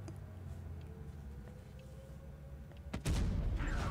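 A tank cannon fires in World of Tanks Blitz with a single heavy boom near the end, following a low rumbling engine drone and faint battle noise.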